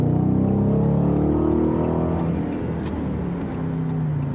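A 2017 Dodge Challenger 5.7 HEMI V8 roars steadily up through the revs while overtaking, heard loud from inside the car, a deep continuous engine drone with rising tone and no talking.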